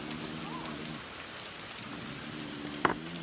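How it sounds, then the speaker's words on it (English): Large raindrops fall in a steady, hissing outdoor patter, with a low humming tone underneath and one sharp tap near the end; no one speaks. "Look at the size of those raindrops."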